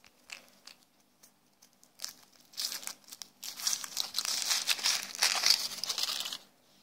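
Thin foil is peeled and crinkled off a chocolate egg in close, irregular bursts of crackling that build into a steady rustle and then stop abruptly.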